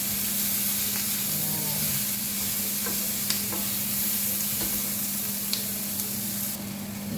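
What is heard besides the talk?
frying and stirring food in a pan over high flame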